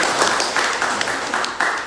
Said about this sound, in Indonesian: Tepuk tangan masing-masing